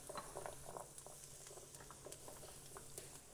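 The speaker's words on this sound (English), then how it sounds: "I'm going to let those saute for a little bit with these onions" Carrots and onions sauteing together in a pan give off a faint, steady crackle and patter that runs evenly throughout.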